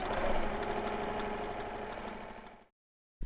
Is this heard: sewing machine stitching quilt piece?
yes